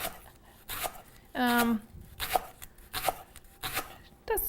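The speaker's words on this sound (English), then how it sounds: "And you wanna cut up the leek thinly." A sharp knife slicing a leek thinly on a board gives a handful of crisp, separate cutting strokes, close up, with a voice speaking between them.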